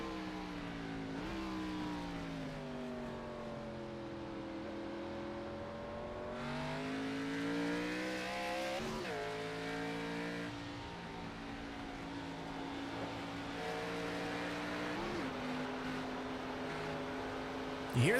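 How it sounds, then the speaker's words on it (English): Xfinity Series race cars lapping the Watkins Glen road course, engines revving and easing off in repeated throttle blips, pitch rising and falling through gear changes, loud and continuous with faint commentary underneath. "You hear the throttle control out of these cars."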